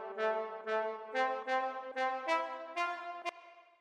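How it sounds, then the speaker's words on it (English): Short brass sample for beat production, a series of about seven bright, clean stabbed notes in a bouncy, evenly spaced rhythm, each with a sharp attack and quick decay, heard alone. "So the next thing that I have here is this little brass sample"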